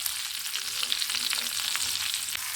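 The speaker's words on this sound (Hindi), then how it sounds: "अभी दोनों तरफ से मैं लाइट ब्राउन कर रही हूँ।" Chicken fries over medium heat in a pan as it browns on both sides, giving a steady, close, hissing sizzle with faint stirring and no voices.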